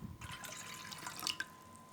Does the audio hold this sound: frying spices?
no